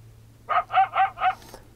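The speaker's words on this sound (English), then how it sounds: "You see it barking, throwing its head back. As one agitated coyote." An agitated coyote barking at night, four quick sharp barks in a row, fairly loud and close with no other sounds.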